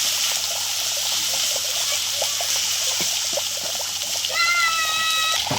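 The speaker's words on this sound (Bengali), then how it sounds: "জল দিয়ে দিলাম।" Water poured into a pan of spicy Bhola fish curry with red chilli, a continuous close splashing trickle that carries on steadily for several seconds.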